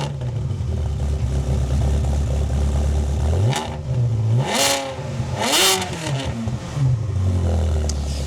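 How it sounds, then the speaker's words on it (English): A sports car fitted with a Capristo exhaust and sport cats idles loudly up close, then blips its throttle in several sharp revs that swell and drop back, alone with no voices. "it's also got a Capristo exhaust and a set of Sport Cats on it as well that sound really good"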